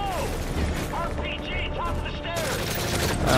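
Rapid automatic fire from a submachine gun and a light machine gun in the video game Modern Warfare 3, dense bursts layered with clattering mechanisms and booms, loud and close, with a player talking over the gunfire.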